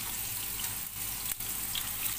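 Chopped onion frying in a pan gives a steady, close hiss and sizzle with faint crackles, continuous throughout with no voices.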